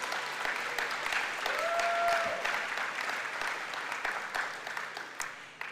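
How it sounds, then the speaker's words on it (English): Convocation audience clapping in a large hall, a sustained patter of many hands with a brief tonal squeal partway through, gradually thinning toward the end. "Can we get a little hand clap on that?"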